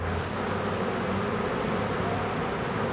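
A dense, steady swarm of bees buzzes continuously close to the microphone near their nest, a thick droning hum with no pauses and no voices.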